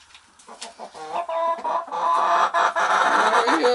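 Roosters and chickens cluck and squawk inside a cage, starting with a few sparse clucks and swelling into a busy, close chorus of overlapping calls.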